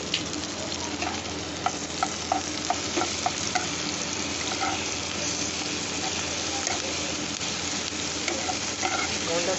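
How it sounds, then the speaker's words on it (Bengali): A paste of ground ginger, onion and garlic fries in a pan, making a steady bright sizzle with frequent scraping clicks from stirring throughout. No voices. "এই আদা পেঁয়াজ রসুন একসঙ্গে আমি বেটে রেখেছি"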